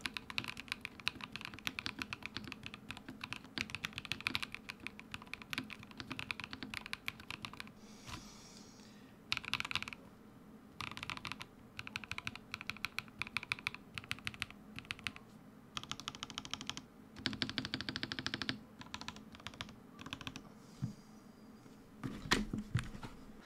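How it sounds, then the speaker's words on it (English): Typing on a custom Razer mechanical keyboard with new switches, reworked stabilizers and PBT keycaps, giving continuous bursts of fast, muted clacky keystrokes, close up and fairly quiet, with brief pauses between runs. "So this is how it sounds like."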